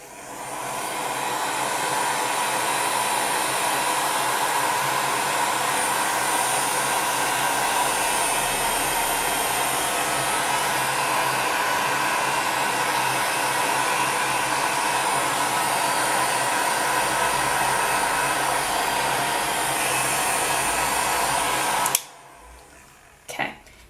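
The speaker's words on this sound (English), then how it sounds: "back away with your heat gun, because you don't want to overheat the clay" A heat gun blows hot air over liquid clay on a pendant, producing a loud, steady blowing roar close by for about twenty seconds before it switches off, followed by a couple of faint handling noises.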